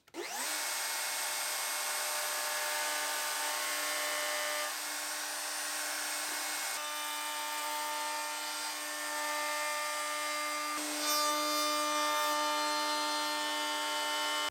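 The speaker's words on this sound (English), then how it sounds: "So we'll go over all the sides to kind of match that kind of that tweed theme" A router with a roundover bit shapes the edges of a wooden cabinet for a 1-watt tube guitar amp, giving a loud, steady high-pitched whine that runs without a break.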